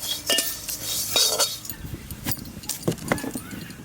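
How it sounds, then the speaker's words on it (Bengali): Flattened rice (chira) is stirred as it fries in a wok for Bengali nadu, giving brisk metallic scraping and clinking of the spatula against the pan in short bursts. "এবার নাড়া নিচ্ছি"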